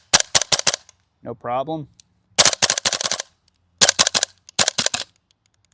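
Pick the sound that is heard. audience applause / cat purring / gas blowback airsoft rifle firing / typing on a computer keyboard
gas blowback airsoft rifle firing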